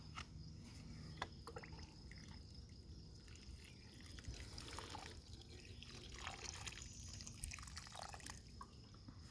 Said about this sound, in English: Give those guys a good watering.